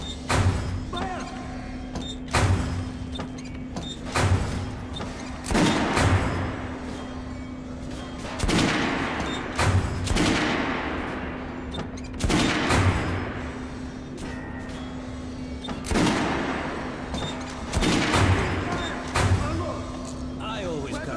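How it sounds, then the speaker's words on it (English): Gunfire at a shooting range in the video game Metro: Last Light Redux, repeated booming shots spaced a few seconds apart with metallic handling noises between them, while in-game voices talk throughout. "Alright, Artyom, head over to my range and try out those guns"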